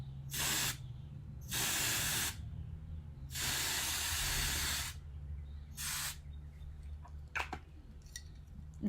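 Hair root touch-up spray from an aerosol can with a skinny nozzle, four separate hissing bursts of varying length, close and loud, with quiet pauses and small handling clicks between them.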